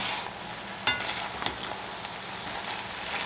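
Cut-up mushrooms for a homemade chili fry in a hot pan with a steady close sizzle, broken by a few sharp scraping stirs of a utensil against the metal.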